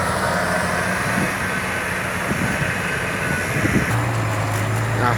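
A tractor engine drones steadily while grading a muddy road, a continuous mechanical rumble with a lower, harder-working tone setting in near the end.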